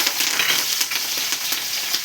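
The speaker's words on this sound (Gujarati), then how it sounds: "ચેવડા માટે વઘાર કરીશું. થોડું જીરું, હિંગ અને લીલા મરચાં અને લીમડી" Cumin, asafoetida, green chillies and curry leaves hit hot oil for a chevda tempering, a close, continuous crackling sizzle with no voices.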